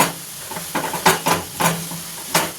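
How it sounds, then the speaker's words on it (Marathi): Grated carrot cooking in a pan is stirred and scraped, with several sharp, close utensil strokes over a faint sizzle. "आता व्यवस्थित आपण त्याला हलवून घेऊयात."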